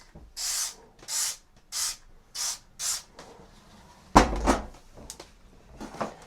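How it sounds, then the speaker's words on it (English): A spray bottle of cleaner fires five even, hissing bursts in a steady rhythm at close range, then scrubbing and rubbing noises follow as the surface gets wiped. "I'm going to spray a generous amount"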